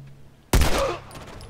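A single heavy gunshot from The Last of Us Remastered on PS4: a sharp loud blast at about half a second, then a decaying reverberant tail with a faint ringing, after near-silence.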